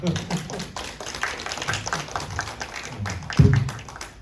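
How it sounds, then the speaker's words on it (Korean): A church congregation claps to welcome a guest lecturer, with a patter of light, close claps and one louder thump near the end, while a voice talks throughout. "박수로 강사님 맞이하겠습니다"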